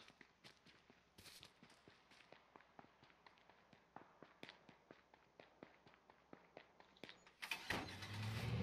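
Footsteps tap along in the H1Z1 video game, then a car engine starts loud and close near the end, turning over into a broad roaring rumble.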